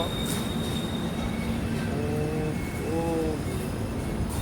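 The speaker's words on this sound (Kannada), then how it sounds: "so finally train ನಿಲ್ಲಕ್ಕಾಯಿತು" A passenger train near Ankola slows toward a stop amid a steady rumbling roar, with brief squealing wheel tones rising near the end and faint murmurs in the background.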